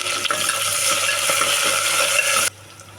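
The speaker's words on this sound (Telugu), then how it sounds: "ఇప్పుడు పచ్చిమిర్చి ఉల్లిపాయలు కరివేపాకు కూడా వేసుకొని" Onions, green chillies and curry leaves frying in a pressure cooker for tomato rice make a steady, close broadband sizzle that stops abruptly near the end, leaving a quiet hum.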